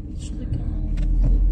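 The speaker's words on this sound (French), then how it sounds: "Le temps que la voiture passe." An ordinary car passes along a quiet residential street with a swelling low engine rumble that builds and stays close through the end, while someone talks nearby.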